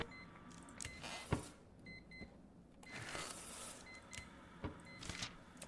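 Electronic beeps sound in the horror game Static Dread: short, repeated high tones come and go over a steady background hum and rustle, with no voice.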